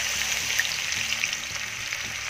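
Finely chopped large onions, with ginger and garlic, fry in mustard oil for beetroot curry, giving a dense, steady hiss with faint bubbling crackle, close and continuous.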